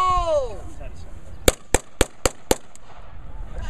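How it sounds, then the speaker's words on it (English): A WWII-era U.S. gun fires five sharp, loud reports at a steady clip, about a quarter second apart, after a brief descending whistle-like tone at the start; no talking over the shots. "do not be 85 feet behind this gun when it fires"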